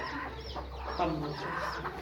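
Rooster and hens on a backyard poultry run with Cochin chickens, giving soft overlapping clucks and a low throaty call over a steady hum, moderately near and fairly quiet throughout.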